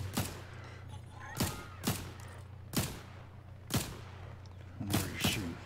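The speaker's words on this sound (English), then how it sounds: "There's a lot of shooting going on that way." Gunfire rings out in a Fortnite Zero Build duos match: sharp, fairly distant shots crack every second or so, in ones and quick pairs, over a low steady in-game hum.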